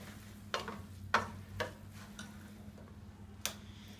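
Teriyaki beef noodles stirred in a pan with teriyaki sauce, faint scrapes and soft clicks of a utensil coming in a few sparse strokes over a low, quiet hum.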